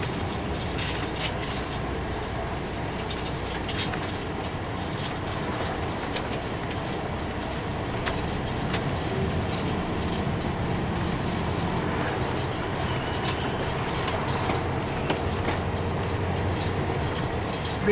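Inside an NJ Transit MCI D4000 coach bus on the 166 local route via Boulevard East, a steady engine drone and road rumble run throughout, with scattered rattles and clunks from the cabin.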